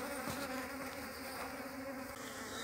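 Honeybees buzz steadily at close range as they lick spilled syrup off a sack during hive care, a dense continuous insect drone with no talking.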